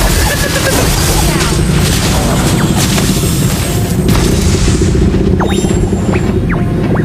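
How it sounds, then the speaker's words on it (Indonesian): A turret is destroyed in a video game, with heavy, continuous booming and rumbling explosions filling the whole stretch at close range, crowded with other game effects. "Your team destroyed a turret."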